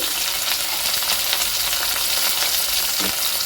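Kohlrabi frying in a pan with salt and turmeric, giving a loud, continuous close sizzle with occasional stirring scrapes throughout.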